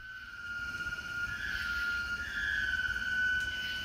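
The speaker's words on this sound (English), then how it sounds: "the mysterious noise resembles the sound of screeching metal, like someone dragging heavy metal furniture across the floor" Mysterious screeching metal sound heard from the sky, a thin, sustained, wavering high squeal like metal dragged across a floor, faint and distant over a low rumbling background.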